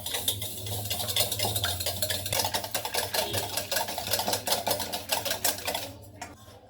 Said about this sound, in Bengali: এবার ডিমটা আমরা আগে ভালো করে ফেটিয়ে নিব।